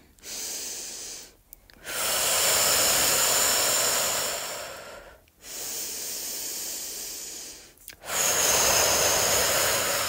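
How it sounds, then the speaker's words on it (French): Deep, intense breathing during a guided visualisation exercise: long, loud, rushing breaths in a slow rhythm, with brief pauses between them, close and without speech. "Essaye de garder cette respiration intense, cette respiration entière, complète."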